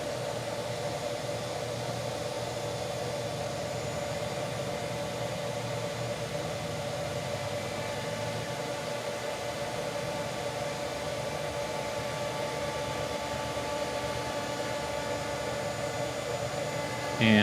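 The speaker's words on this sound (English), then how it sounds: "we're cutting brass all the way around this circle" A Shaper Origin handheld CNC router cuts brass in a circular pass while making a custom branding iron, giving a steady, continuous whirring drone with broadband noise that holds even and loud throughout, unbroken by any talk.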